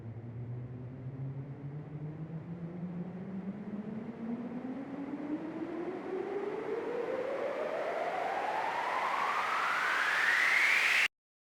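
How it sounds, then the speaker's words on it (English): Basic white noise riser from a Serum noise generator with filter, a hissing wash whose filtered tone climbs smoothly and grows louder over about eleven seconds before cutting off abruptly. "I cover the basics, which sounds like this."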